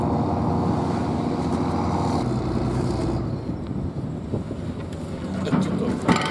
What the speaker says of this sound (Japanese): 作業船のね、音が気になりますね。